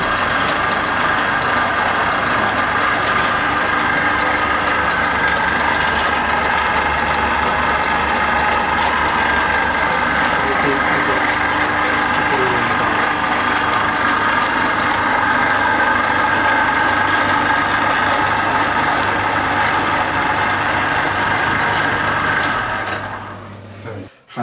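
Vintage ride-on lawnmower engine running at a lawnmower museum, a steady buzzing, rattling idle close by that continues evenly before cutting off at the end, with people talking over it.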